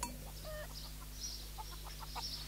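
A chicken gives a few soft, short clucks and low chatters in a quiet setting, faint and somewhat distant, with no voices over it.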